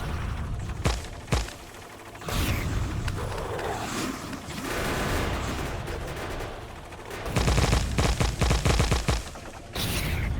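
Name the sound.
gunfire shooting nests in video game Factorio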